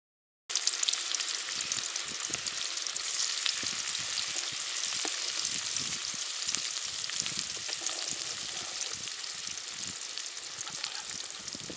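Onions frying in oil with fenugreek seeds for a village-style fish curry, a steady dense crackling sizzle with a few scattered pops and stirs, close and continuous for several seconds.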